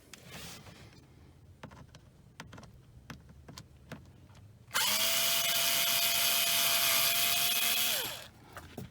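A power driver spins for about three and a half seconds, loud and steady, while removing the two T20 Torx screws from the seat bottom of a 2005 Mercedes G500 G-Wagon. Light clicks and handling noises come before it.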